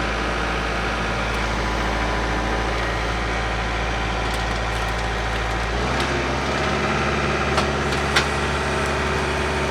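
A John Deere tractor engine idling nearby on a farm, a steady continuous drone that drops slightly in pitch partway through, with a few faint knocks and clicks on top and no speech.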